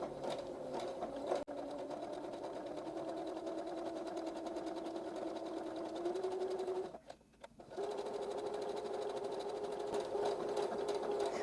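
A sewing machine runs steadily while stitching a homespun fabric rag quilt around its corners, a continuous close whirring drone that pauses briefly near the end before resuming.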